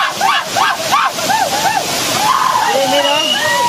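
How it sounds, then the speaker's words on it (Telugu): The Raikal waterfall in rural Telangana roars loud and close, a continuous rushing wash of water, with voices calling out over it in short rising bursts. "ఇదంతా వాటర్ ఫాలే, చాలా అంటే చాలా బాగున్నాయి వాటర్"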